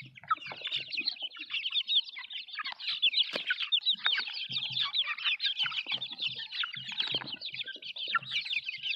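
Chickens and roosters clucking and calling in a dense, busy chorus close by, with overlapping cackles and short squawks throughout and no talk.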